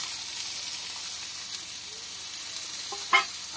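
Potatoes fry in a pan with a steady, close hiss of oil that runs throughout, broken near the end by a brief clatter of stirring.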